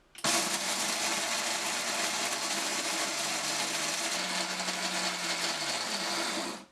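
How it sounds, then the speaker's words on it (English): A countertop blender runs loud and continuous on a batch of frozen vegetables, steady harsh whirring for several seconds with a slight pitch shift as the load breaks up, then cutting off at the end. "we're going to do this in batches so it doesn't put too much pressure on my blender"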